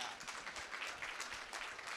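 Dense applause from a convention audience, steady clapping at moderate volume for a couple of seconds.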